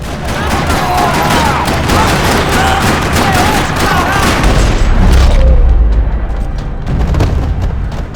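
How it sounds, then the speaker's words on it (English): Dense, rapid video-game gunfire in a parking lot in Max Payne 3 rattles continuously with booming shots and scattered ricochets, loud and chaotic, with a heavier low rumble near the end. "Another parking lot rattling with gunfire."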